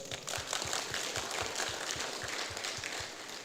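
A government and education gathering claps for private-sector guests, a steady wash of many hands at a distance with no single clap standing out. The sound is moderate and even over a few seconds, and there is no talking.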